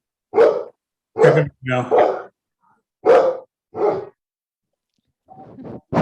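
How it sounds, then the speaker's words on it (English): A dog barks indoors during a town council meeting, giving about five loud, separate barks spread over several seconds. A voice briefly speaks among them. "There's a dog."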